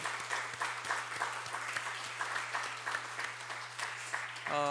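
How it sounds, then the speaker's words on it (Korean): A church congregation at a Marine Corps chapel Sunday service claps steadily throughout, a dense, even applause heard at moderate distance over a low electrical hum. "큰 박수로 한번 격려하겠습니다"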